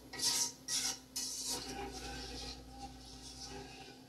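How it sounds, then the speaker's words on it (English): Seasoning being stirred into a pot of water on a stove top, a few metal spoon scrapes and clinks against the pot at the start, then a quieter low rumble. "Give it a good stir so we can mix in that seasoning"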